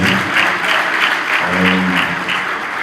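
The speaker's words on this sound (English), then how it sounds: "Round of applause" An audience gives a round of applause at a memorial gathering in Nigeria, a dense, even burst of clapping with a voice faintly underneath.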